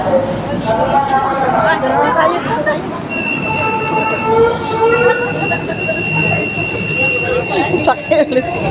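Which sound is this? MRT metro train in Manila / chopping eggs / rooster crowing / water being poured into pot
MRT metro train in Manila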